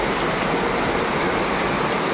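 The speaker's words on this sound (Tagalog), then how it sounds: "grabe ang lakas ng ulan" Heavy rain pours down in a dense, constant hiss that stays loud and unbroken from start to finish, with no voices over it.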